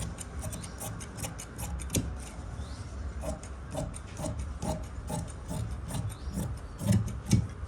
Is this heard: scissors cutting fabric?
yes